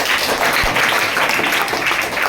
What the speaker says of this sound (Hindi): कहानी अच्छी लगी तो ताली होनी चाहिए